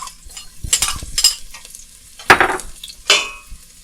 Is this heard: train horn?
no